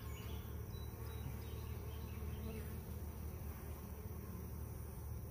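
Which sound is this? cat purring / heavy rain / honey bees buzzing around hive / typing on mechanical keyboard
honey bees buzzing around hive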